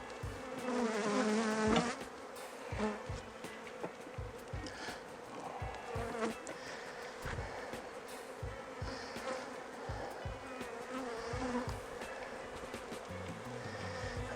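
Honey bees buzz steadily around a spring beehive as foragers bring in pollen, a dense continuous drone with a few louder individual bees passing close, plus occasional knocks and handling sounds.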